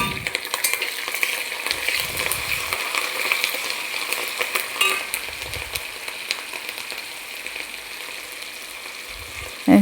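Chopped curry leaves and green chillies sizzle steadily in hot oil for pickle-making, with a spoon stirring and scraping the pan now and then. The frying is close and continuous, and there is no talking.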